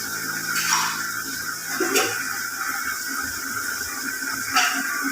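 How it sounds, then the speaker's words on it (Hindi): Dal boiling water is poured into a pan of fried chillies, giving a steady rush of liquid with hissing, sizzling splashes that rise and fall over several seconds. "ये दाल का ही पानी है जिसमें दाल बॉईल की थी, वो मैं डाल रही हूँ।"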